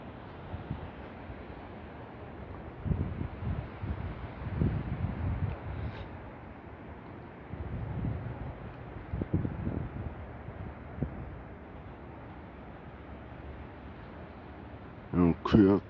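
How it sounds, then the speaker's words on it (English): Wind gusting outdoors under a clear sky, a steady broadband rush with stronger low buffeting swells around five and nine seconds, plus a short sharper rattle near the end; no talk. "Look at that wind so blowing."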